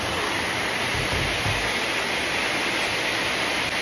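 Heavy typhoon rain pours down during a storm while out jogging, a dense, steady roar of downpour that fills the air evenly and loudly throughout, with no pauses.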